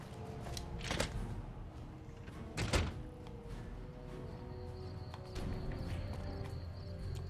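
A door opens in Fallout New Vegas, a few wooden thunks and clicks at moderate level over a faint room hum, with no voices.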